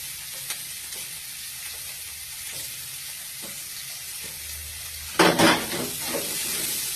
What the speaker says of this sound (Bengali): পেঁয়াজ ক্যাপসিকাম কুচি ভাজছি, তো এটা ভাজা ভাজা হোক।